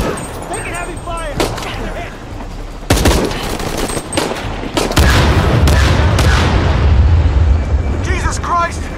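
Heavy gunfire and explosions in Shadow of the Tomb Raider, with sharp bursts of automatic fire and booming impacts. They build into a dense, loud barrage while shouted game dialogue plays over the noise.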